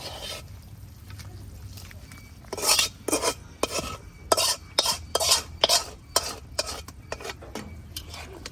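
Fish goes into a pot of sour broth at a rolling boil, with a run of sharp metallic clanks and scrapes from a utensil against the pot over a low, continuous bubbling hiss.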